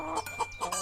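A hen in an animated moral story clucks in a short, close burst of several quick notes, with no talking over it.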